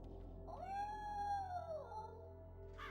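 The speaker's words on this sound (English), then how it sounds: "Cats sound weird in this town." A cat meows once in the video game Blood Omen 2: Legacy of Kain, a long, drawn-out, wavering cry over a steady low hum of game ambience, with a short hiss of noise at the end.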